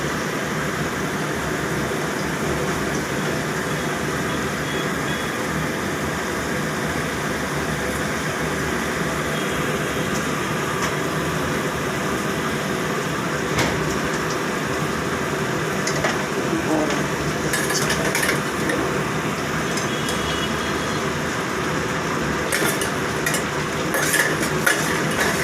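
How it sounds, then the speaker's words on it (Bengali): Boal fish frying in hot oil, a steady dense sizzle with scattered crackles and pops running throughout, fairly close, while a voice talks over it. "বোয়াল মাছ প্রচুর ফাটে, সারা জায়গায় তেল ছেটে একাকার হয়ে গেছে।"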